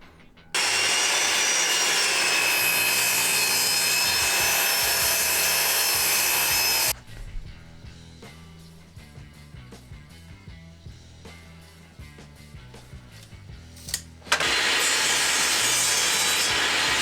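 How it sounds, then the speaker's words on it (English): A table saw rips through a piece of wood to cut it to thickness, a loud sustained whine for several seconds, then a quieter stretch of scraping and knocking before the saw roars again near the end. "So we're going to cut it to the correct thickness right here on the table saw."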